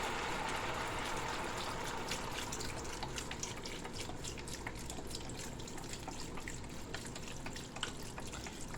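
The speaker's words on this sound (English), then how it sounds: "So now I will add in the rest of my vegetable broth." Vegetable broth poured into a pot of cabbage soup, a soft continuous splashing stream with faint gurgles, fairly quiet.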